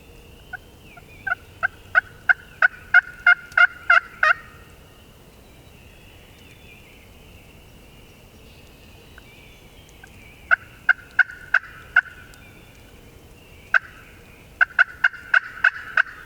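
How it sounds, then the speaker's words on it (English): Wild turkeys gobble from the roost in bursts of rapid, rattling calls. Several clustered volleys ring out at a middle distance against a quiet outdoor background, separated by long pauses. "one of them does kind of sound like a gobbler"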